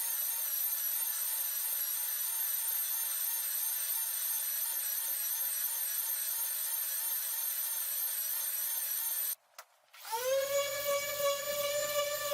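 A power sander runs at 80 grit over a long leaf pine live edge slab for a coffee table top, giving a continuous high whine with a wavering pitch. After a brief dropout the tone shifts as the tool changes speed.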